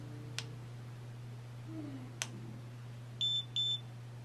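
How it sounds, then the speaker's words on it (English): Two short, high electronic beeps in quick succession from a Tachyon OPS HD action camera turning off, faint against a low hum, with a few soft clicks earlier. "hold it, and it will beep at you when it turns"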